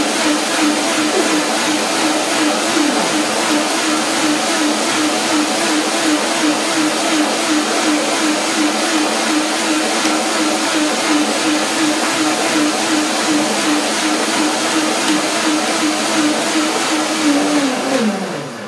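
A blender whirs loudly and steadily for nearly twenty seconds blending water with cashews and parsley into a cream, its motor pitch wavering slightly before winding down at the end.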